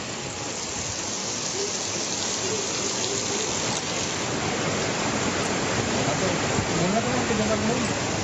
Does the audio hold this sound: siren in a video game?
no